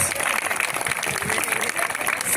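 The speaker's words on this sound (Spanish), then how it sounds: "Fuertes aplausos para ellos y para todos ustedes nuevamente" A crowd applauds the Afro-Peruvian children at the Tinkuy ritual honouring the Pachamama, a steady dense patter of clapping throughout with talk mixed in.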